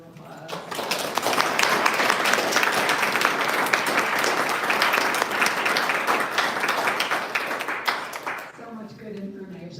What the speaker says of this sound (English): I'd like everyone to please give a round of applause